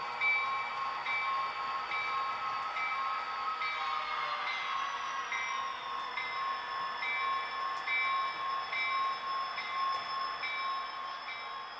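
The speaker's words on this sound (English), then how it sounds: "So now we pull this wagon. It's a Canadian National gondola" A model train hauls a Canadian National gondola wagon along a layout, giving a steady continuous rolling hum with faint sustained tonal whine throughout, no voices heard.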